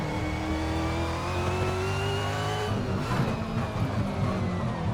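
V8 Supercar engine in the racing game Assetto Corsa at Winton: a loud, close engine note holding a steady high rev, then dropping abruptly as gears shift down, followed by a rougher, lower burble, no voices.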